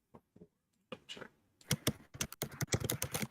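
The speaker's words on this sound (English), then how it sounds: "We all hear you typing on." Computer keyboard typing during a live chat stream, a few sparse keystrokes at first, then a dense, fast run of clicks and taps toward the end, close and clear with no talking.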